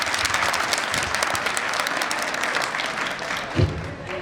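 Many listeners at a religious discourse, part of a Ramdevra procession gathering, applaud in a thick, continuous roar of clapping that carries on steadily and then thins slightly near the end.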